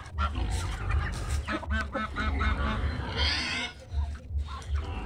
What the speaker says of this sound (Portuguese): Olha o ganso.